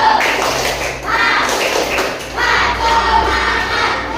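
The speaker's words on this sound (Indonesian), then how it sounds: "Tepuk semangat." An audience in a morning teacher-training session claps together in a spirited group cheer, dense and loud, with crowd voices mixed in and a few surges over about four seconds.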